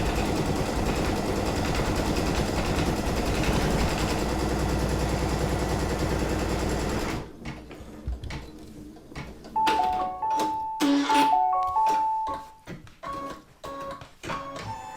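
An embroidery machine stitches a tack-down line, a loud steady mechanical whirring and rattling for about seven seconds, then quieter clicks, beeps and handling sounds.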